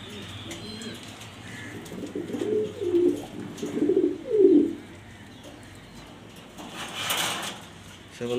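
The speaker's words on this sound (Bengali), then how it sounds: "এটা নর কবুতর।" Male pigeon cooing in several rounded, rhythmic phrases, fairly close, with soft ambient background noise and no talking.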